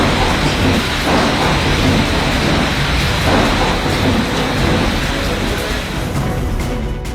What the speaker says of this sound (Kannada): ಬೇಸಿಗೆ ಮಳೆಯ ಅಬ್ಬರ.